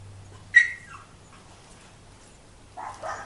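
A dog gives a sharp yip-like bark, then whimpers and whines again a couple of seconds later, close by and fairly quiet, with a low steady hum underneath and no talking.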